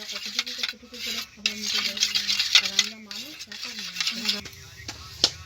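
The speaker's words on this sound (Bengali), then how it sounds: "তিনটে মিশিয়ে আমি একটা পেস্ট বানিয়ে নেব" A spoon works tomato sauce and other ingredients into a paste, scraping and clinking against a metal pan in irregular strokes, with a faint sizzle and tonal squeaks in between.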